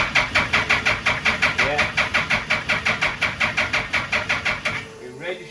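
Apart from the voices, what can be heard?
Suzuki Hayabusa engine running and revving in mini car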